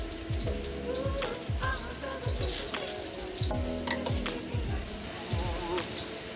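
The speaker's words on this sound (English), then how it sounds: "we have our meatballs in our wok. We want to be sure very specifically not to move them for a little while." Lion's Head meatballs fry in a wok, producing a loud, dense, continuous sizzle and spatter with crackling pops throughout and no talking.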